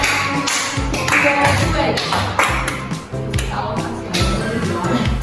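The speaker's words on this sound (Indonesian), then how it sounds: "Ada Komita dan Hano, kasih tepuk tangan." Primary schoolchildren in a classroom clap their hands in a busy, uneven patter while voices talk and chatter over the clapping.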